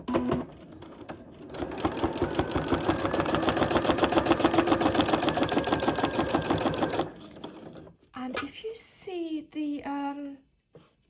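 A sewing machine does free-motion stitching on a paper floral greeting card, giving a close, rapid, even needle chatter that speeds up and holds for several seconds, then stops. A voice speaks at the end.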